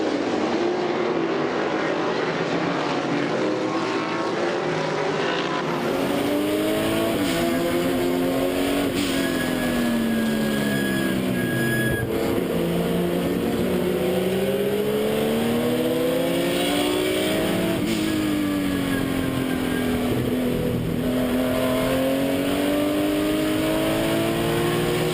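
A Porsche 935 and a Chevrolet Corvette in a rolling race start at a road course, a pack of loud engines howling and climbing through gears, pitches sweeping up and down as they pass, with no talk.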